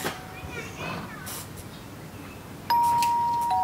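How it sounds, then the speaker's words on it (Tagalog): A home doorbell rings once with a clear, loud electronic ding-dong tone that cuts in sharply after several seconds of quiet room noise and faint talk, then holds and fades slightly. "Pinaglalaroan na naman yung doorbell natin."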